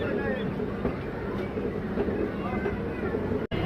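A steady rumble of a moving train carriage, with a broad continuous drone and faint rattling, ending in a brief sharp click.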